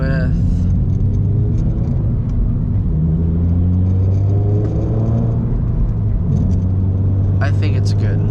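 A Subaru BRZ sports car cruising at steady speed, its engine and road rumble droning continuously from inside the cabin.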